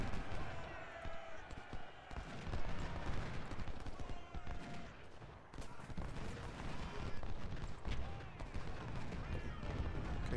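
Musket gunfire in the video game Ultimate General Civil War, ragged crackling volleys and scattered shots rolling continuously at moderate volume, with a voice speaking over the battle.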